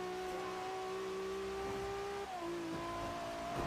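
A car engine in the Forza racing video game drones steadily inside a tunnel, its pitch holding and then shifting down partway through, sustained and fairly close with no talk.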